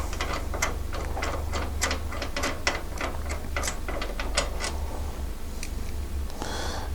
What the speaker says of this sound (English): 17mm wrench with a 19mm socket and a ratchet to back the nut up